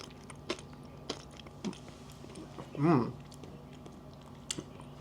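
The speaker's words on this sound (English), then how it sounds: "Oh my god, can you hear that crunch?" Close-miked crunching bite into hazelnut chocolate from Le Chocolat Maxime Frederic at Louis Vuitton, one loud crisp burst mid-clip amid faint mouth clicks, with no talking.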